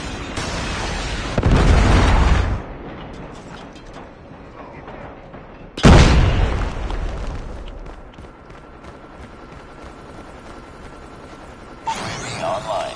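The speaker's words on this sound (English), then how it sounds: "Predator missile inbound." A predator missile strike in Call of Duty Mobile team deathmatch, two heavy booming explosions a few seconds apart, each with a rumbling tail, between quieter game effects and scattered gunfire, with game voice callouts.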